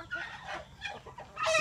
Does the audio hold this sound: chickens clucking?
yes